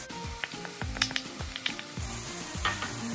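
Garlic fries in a pan with jerk seasoning and softened aromatics, a continuous close sizzle broken by repeated stirring scrapes and small clicks of a utensil against the pan.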